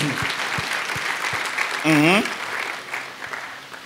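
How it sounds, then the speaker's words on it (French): Church congregation applauding for Jesus during a morning service, dense clapping filling the hall, with a brief tonal vocal sweep rising above the crowd midway. "Let's clap for Jesus."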